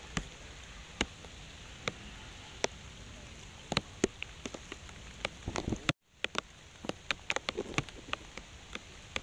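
Rain falls during a flood-season fishing trip in Vietnam, a faint steady patter with scattered sharp drops ticking on a nearby surface and a brief cut midway, with no talking.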